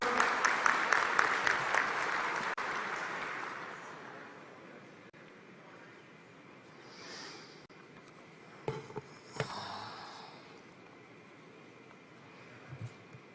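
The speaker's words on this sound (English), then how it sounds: "A round of applause for the minister." Audience applause for a minister at a builders' conference, a brief burst of hand claps at the start that fades into quiet room tone, followed by a few scattered knocks and rustles.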